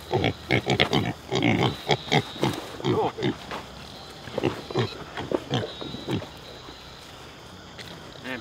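Pigs on a farm grunt and snort in rapid bursts, loud and close at first, then thinning out into sparser, fainter grunts against a quiet outdoor background.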